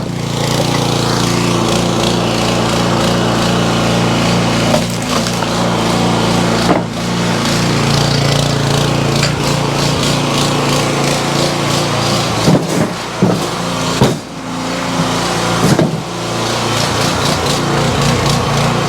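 Firewood being split by a loud, steady engine-driven machine that drones continuously up close, with a few sharp cracks and knocks of wood breaking near the middle and later on.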